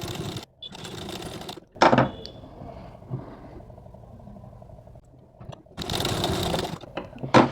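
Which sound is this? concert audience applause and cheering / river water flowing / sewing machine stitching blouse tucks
sewing machine stitching blouse tucks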